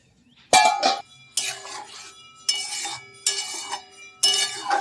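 A spoon stirring a half-cooked mung lentil mixture with ground spices and a small potato in a metal pot, with five loud ringing scrapes and clinks separated by short pauses.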